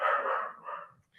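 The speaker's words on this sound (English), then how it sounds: "got a little dog in the background" A small dog gives a single short bark with a brief trailing yip, heard fairly clearly in the background of an indoor meeting.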